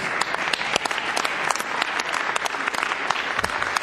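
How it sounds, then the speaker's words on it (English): An audience at a school board meeting applauds students, a steady clatter of many hands clapping continuously throughout. "give our kids some Gompers a round of applause"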